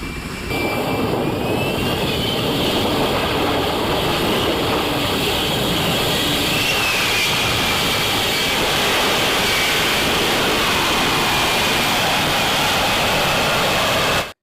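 An F-35B fighter jet lifting off vertically without a runway, a loud, continuous roaring jet engine blast that fills the scene from start to finish at close range, no voices.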